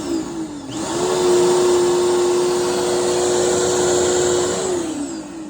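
A Bissell vacuum cleaner's motor whirs up from a lower hum into a loud, steady whine that holds for several seconds and then winds back down, close by and alone, with no talking.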